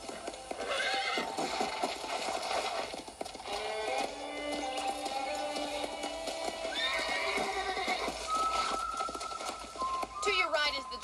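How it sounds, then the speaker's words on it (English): Horse in the video game Red Dead Redemption, hooves clip-clopping in a steady rhythm with repeated whinnies and neighs on a ranch, while a game character talks over it. "let's see if you can still ride a horse."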